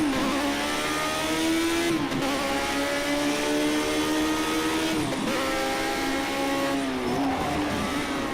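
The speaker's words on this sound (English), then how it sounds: "I got my transmission set up where I can really accelerate well." 1972 Lotus race car at the Fuji GP circuit in Project CARS 2, its engine revving loud and steady, climbing in pitch through each gear with brief dips at about two, five and seven seconds.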